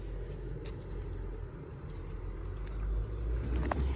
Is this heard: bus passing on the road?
yes